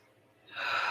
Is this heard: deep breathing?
yes